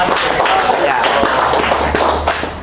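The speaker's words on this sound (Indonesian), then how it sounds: "Tepuk Benar. tangan sekali lagi." Hands clapping in applause inside a podcast studio, a brief burst of claps running under ongoing conversation.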